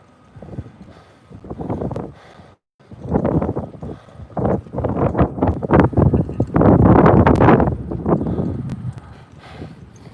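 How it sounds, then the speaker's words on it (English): Strong wind buffets an outdoor microphone at a rally in Lansing, a loud, irregular rumble that surges and gusts continuously, briefly dropping out near the three-second mark before roaring on even harder. "It is so windy."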